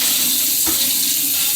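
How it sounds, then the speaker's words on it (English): Cold water runs from a kitchen tap over raw chicken breasts, a steady hissing splash at close range with a brief clunk or splatter partway through, no talking. "Some cold water. I'm gonna wash this chicken."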